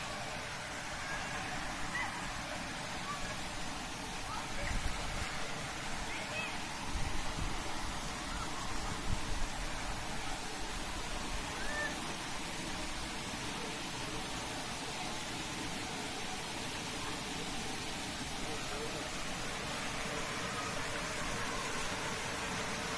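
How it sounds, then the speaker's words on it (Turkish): A hidden waterfall near Balkaya village in Vize, Kırklareli, Turkey, sounding as a steady broadband rush of falling water. The roar holds fairly even throughout, with no clear voices. "Esas şelale burası"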